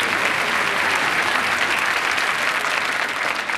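Applause from a TV studio audience for a young figure skater on ice, a steady, dense wash of clapping from a large crowd that holds at an even level throughout, with no talk over it.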